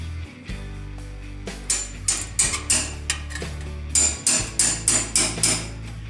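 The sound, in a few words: hammer striking a punch into steel sheet metal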